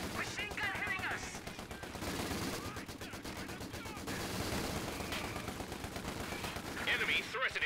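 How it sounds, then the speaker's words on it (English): Machine gun fire in Company of Heroes 2, rapid bursts of gunfire crackling through a busy battlefield mix, with overlapping shots and scattered voices in the background. "Machine gun hitting us!"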